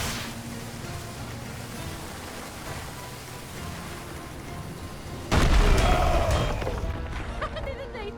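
Cannon fire in the swashbuckling video game En Garde!, a sudden heavy boom bursting out of a low rumbling ambience and then decaying into a rough, crackling roar, loud and close.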